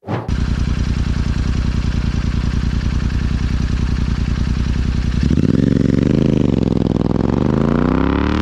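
A Royal Enfield Interceptor 650 parallel-twin motorcycle engine with 270-degree firing order and dB killers removed fires up and idles with a rapid, lumpy throb, then revs higher and wavers, loud and close, running throughout.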